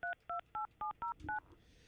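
Touch-tone dialing on an old landline trimline phone beside a bed: six evenly spaced, clear beeps in quick succession, followed by a faint rustle.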